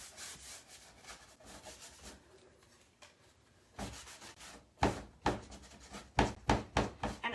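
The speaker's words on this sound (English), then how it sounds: "I'm just kind of rubbing my rag into these grooves and crevices." A rag works wax into the grooves and crevices of carved wood, giving a run of close, dry rubbing strokes that start soft and grow into louder, rhythmic scrubbing bursts.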